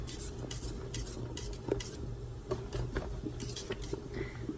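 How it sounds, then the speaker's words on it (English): Thick apple pie filling is stirred in a pot, with a spoon clicking and scraping against the sides in an uneven rhythm over a soft bubbling background. "It'll start to get hard to stir at this point."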